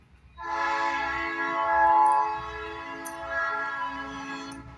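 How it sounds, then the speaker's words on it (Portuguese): A train horn sounds one long, steady, loud blast of several seconds, close by and swelling slightly before holding, over the low rumble of the passing train. "Vai ter barulho de trem no vídeo."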